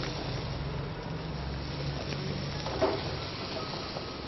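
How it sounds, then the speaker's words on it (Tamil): Masala spices fry in oil in a pan, a soft steady sizzle that continues for a few seconds, with a low background rumble and a faint clink partway through. "அந்த மசாலா ஐட்டம் எண்ணெயில் பொரிக்கிறீங்களா?"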